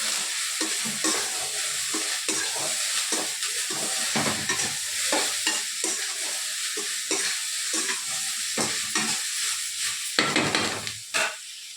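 Okra sautéing in a pan with turmeric and chilli powder gives a steady sizzle from start to finish, with repeated scraping and stirring strokes from a spatula close by and no talk.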